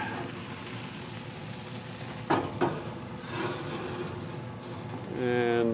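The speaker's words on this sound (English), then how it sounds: "Should be able to hear that sizzling." Chicken wings sizzle inside a hot wood-fired Yoder pizza oven, a steady crackling hiss with a couple of brief clatters midway. A voice-like tonal sound rises near the end.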